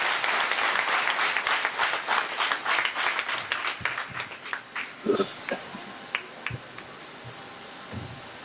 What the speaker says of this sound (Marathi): अरे टाळ्या वाजवाल तिच्यासाठी.